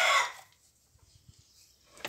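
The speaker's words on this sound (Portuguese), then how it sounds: "Esse é o galo, tá, gente?" A rooster crows once, loud and close at the start, fading quickly, followed by quiet with faint low thumps and a brief burst of sound at the end.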